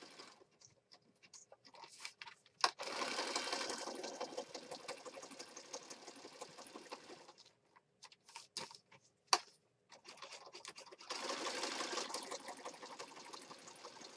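A sewing machine stitches around paper rectangles on a junk journal page, running in several long bursts of steady, buzzing whir with brief stops and clicks between them, fairly close and unaccompanied by talk.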